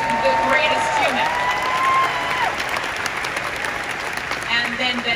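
Applause from a convention panel audience at San Diego Comic-Con, a steady broad wash of clapping from a large crowd, with a sustained tone and some voices over it.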